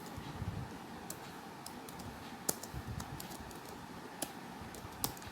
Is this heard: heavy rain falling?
no